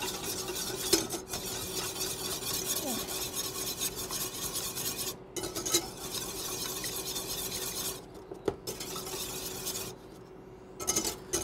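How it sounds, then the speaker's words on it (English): Wine sauce being whisked in a pan for a quail dish, a steady scraping, rasping stir that runs continuously with brief pauses, close and moderately loud, no voices. "You want to mix it really nice like this."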